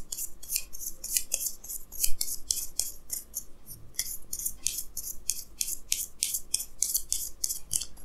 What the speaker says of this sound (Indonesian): Jadi saya akan tarik lagi 2 kartu tambahan, ya.